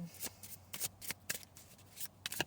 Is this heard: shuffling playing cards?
yes